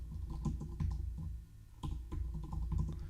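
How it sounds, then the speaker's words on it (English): Fingers type on a computer keyboard during a live day-trading stream, a quick irregular patter of close, crisp key clicks with a brief pause partway through and no talking. "I'm typing right in the chat box right above my camera"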